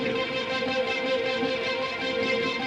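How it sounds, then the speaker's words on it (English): Two layered guitar tracks in a synthpop style, one pitched up an octave, forming a dense, sustained shimmering wash at moderate level with no clear individual attacks. "I've copied it, I've pitched it up an octave, and now both guitars are going to sound like this."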